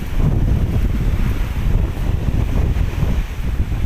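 Strong sea with whitecapped waves surging under gusty wind on a Philippine coast, a steady loud roar of surf and wind buffeting the microphone throughout, no voices.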